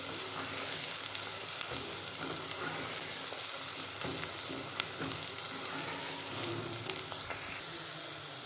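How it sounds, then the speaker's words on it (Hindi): Onions fry in a pan over medium heat, a soft, steady sizzle heard close but fairly quiet, with occasional small pops and clinks from the pan and no talking. "और मीडियम आंच पे प्याज़ों को हम फ्राई करेंगे।"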